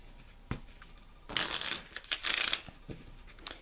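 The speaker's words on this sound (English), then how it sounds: "and I'm going to shuffle the cards." A deck of Lenormand cards is shuffled at a table: soft riffling bursts and papery flutters, close and fairly quiet, with a few sharp taps of the deck, no voice.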